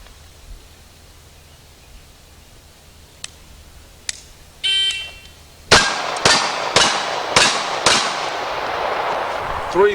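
Five rapid, loud 1911 pistol shots ring out in quick succession during a timed shooting drill, each with a sharp crack and short decay, after a few faint clicks and a timer beep.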